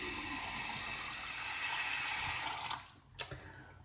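A bathroom tap runs steadily in a sink, rinsing up after a shave with a Timeless stainless steel razor, then the flow is shut off, leaving a couple of small clicks and drips.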